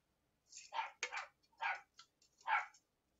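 A dog gives a short run of sharp, close barks and yips, about five bursts spaced unevenly over a few seconds, fairly faint against a quiet room.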